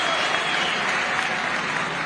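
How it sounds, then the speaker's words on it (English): Audience applause at a councillors and local government meeting in a large conference hall, a dense continuous clapping from many people that holds steady throughout. "Clap for everybody."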